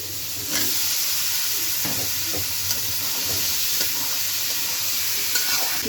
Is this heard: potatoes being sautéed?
yes